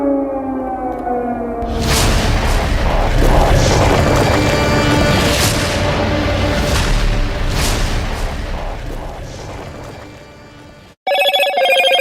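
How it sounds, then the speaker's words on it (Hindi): A loud, booming blast from an air strike on Gaza erupts after a brief tone and rumbles on for several seconds, heavy and distant, before an electronic tone returns. "एक बड़ा धमाका जो दूर से ही कैमरे में भी कैद हुआ"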